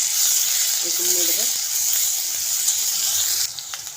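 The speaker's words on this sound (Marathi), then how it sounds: "बारीक चिरलेला आहे कांदा ॲड करून कांदा पण छान परतून घेऊया" Chopped onion sautéing in oil with garlic, cumin, mustard seeds and curry leaves for a tempered curd dish, a steady bright hiss of frying that drops off near the end, with a brief voice in the middle.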